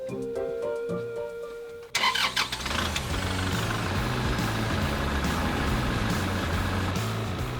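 Farm machinery in an onion field in Hamyang, South Korea, starts up after a quiet tonal passage, its engine catching with a sudden burst and then settling into a loud, steady, close rumble that continues alone.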